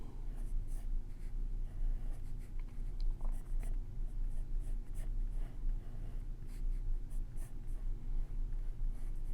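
Pencil scratching across paper in steady strokes while sketching a Teenage Mutant Ninja Turtle's almond-shaped eyes, a soft continuous scratching close by over a low steady background hum, with no voice.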